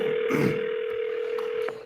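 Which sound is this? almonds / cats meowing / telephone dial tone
telephone dial tone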